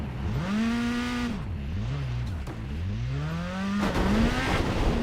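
A rally car engine in the WRC 10 racing game, revving up and down through gear changes with rising and falling whine, a steady loud drone that dips briefly mid-run before climbing again, with no one speaking.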